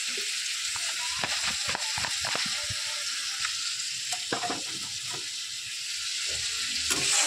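Spices sautéing in oil for a Bengali tangra fish curry, a steady close sizzle and fry with scattered stirring scrapes and clinks throughout.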